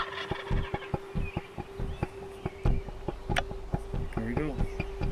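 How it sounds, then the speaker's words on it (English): A wild turkey gobbles in a burst of rapid, rattling calls outdoors during a hunt, heard at moderate distance amid background insects and faint ambient noise. "Next time he gobbles."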